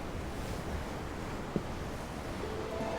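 Ocean waves in the video game Tales of Arise, a soft, steady wash of surf with a breezy hiss and one brief faint knock midway, with no voices.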